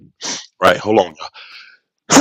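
A single quick sneeze bursts out between bits of casual conversation, close and loud, with people talking just before and after it.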